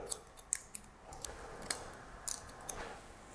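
Scissors cut long red hair during a haircut, giving quiet, crisp snips at an uneven pace with soft rustling between them and no talking.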